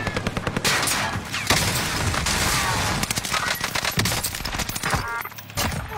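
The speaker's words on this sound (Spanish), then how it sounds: "Ahora tengo un avión disparándome" Rapid bursts of machine-gun fire from an attacking plane in a shooter video game, loud, dense and repeated across the whole stretch with brief gaps.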